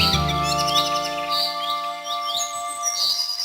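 Cartoon birds chirp in a forest scene, a series of quick high tweets repeating over a steady background of sustained musical tones.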